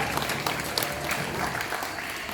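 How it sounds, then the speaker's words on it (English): An audience at a live tiger show claps in a steady, dense burst of applause that fills the whole stretch, with a few voices mixed in underneath. "Let's give him another big round of applause."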